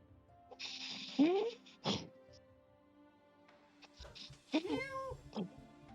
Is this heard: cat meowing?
yes